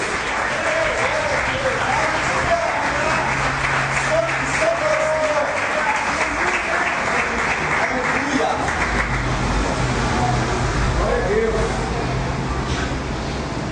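A church congregation claps steadily and loudly for the whole stretch while voices carry on talking over the applause.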